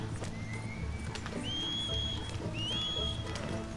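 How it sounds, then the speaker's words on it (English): Horse hoofbeats in a video game, a steady run of clip-clop behind the player, with a whistle-like tone rising over it and a few faint whinnies. "my horse is chasing me, too."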